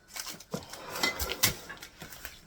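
An unopened metal can is dropped in a home kitchen, giving a handful of clattering metallic knocks and bumps spread over a couple of seconds, fairly quiet and close.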